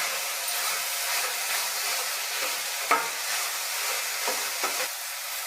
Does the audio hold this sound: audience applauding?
no